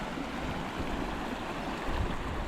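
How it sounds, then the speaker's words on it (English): A fast-flowing river swollen with floodwater after stormy weather at Blue Pools, Briagolong, rushing in a steady, loud, continuous roar with no voices. "the water has picked up in speed, and there's a lot more coming through the river system at the moment"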